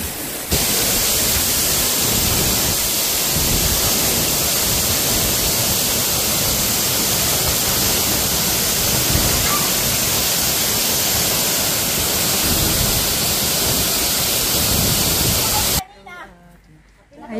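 Ng Tung Chai waterfall pours in a loud, steady broadband roar close by, a continuous rush of falling water that cuts off abruptly near the end, leaving a quieter stretch with faint voices.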